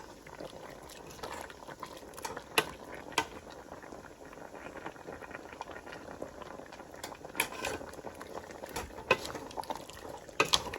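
Beef tendon soup bubbles in a pot, a continuous low boiling patter with scattered louder pops and gurgles, close and fairly quiet with no talking.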